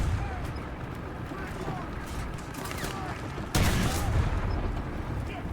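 Tank gun shot in a video game with an M8A1 GMC, a sudden loud boom cutting in after a stretch of rumbling battle noise, with a person talking throughout.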